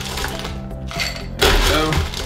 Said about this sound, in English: Make sure you go all the way to the top with the ice.